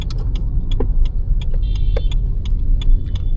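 A car driving slowly during a driving lesson, with a low steady engine and road rumble underneath and scattered clicks and rattles from inside the cabin, close and fairly loud.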